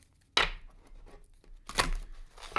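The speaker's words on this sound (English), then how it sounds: "One more shuffle." An oracle card deck, the Shadow and Light deck, is shuffled in two quick, crisp riffling bursts up close, separated by a short pause, with no talking.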